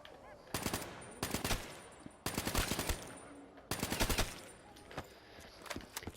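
A KN-44 assault rifle fires in Black Ops, several loud bursts of rapid automatic shots separated by short pauses, close and dominant.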